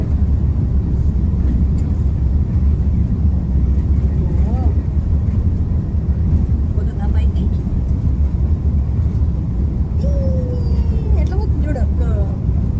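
Steady, loud roar of an airliner cabin as the plane gets underway on a flight from America to India, a constant broadband drone filling the whole clip with faint tones and a voice surfacing occasionally.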